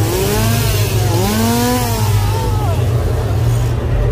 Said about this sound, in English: they got chainsaws in here